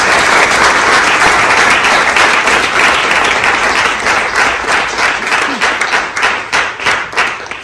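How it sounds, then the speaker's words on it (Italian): An audience at a morning gathering of local businesses and officials breaks into loud, dense applause close by, a continuous roar of many clapping hands that thins into more distinct, rhythmic claps toward the end. "facciamogli un applauso"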